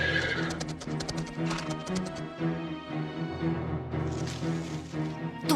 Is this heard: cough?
no